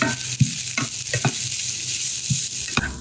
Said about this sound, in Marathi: एक टोमॅटो घेतलंय टोमॅटोचा पिया आणि गर आहे तो काढला आहे थोडासा लसूण पण झालं आणि हे दोन ते तीन मिनिट फक्त परतून घ्या